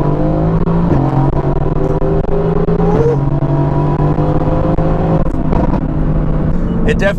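A 700-horsepower Mercedes-AMG GT S engine pulls hard under acceleration, a loud close droning growl with rising tones and gear-change steps, heard from inside the car.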